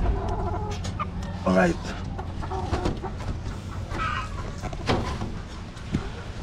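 Chickens, Albany fowl, in a breeding pen cluck and squawk nearby, with a louder burst partway through, while someone talks over them.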